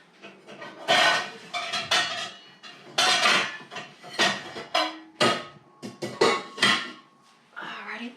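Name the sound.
lid placed on a pot for the red cabbage dye bath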